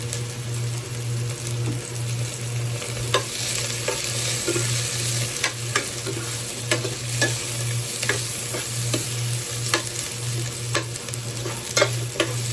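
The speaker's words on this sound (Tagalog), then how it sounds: "Habang ginigisa natin yan" Food sautéing in a pan with steady frying sizzle and repeated stirring scrapes throughout, plus a constant low hum underneath; no talking.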